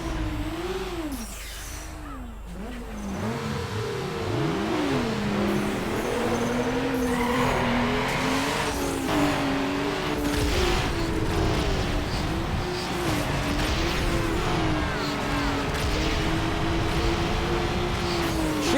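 Engine of a Hyundai Coupe revving and shifting in a Need for Speed Underground street race, a continuous loud synthetic motor whine rising and falling in pitch throughout, with music and game effects layered over it.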